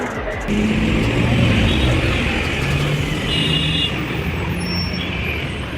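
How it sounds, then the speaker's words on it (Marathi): A Maharashtra state transport (MSRTC) ST bus pulls in on a road near Dapoli, a loud, steady engine rumble with a brief hiss like an air brake, close by and continuous for several seconds. "आत्ता गाडी आले"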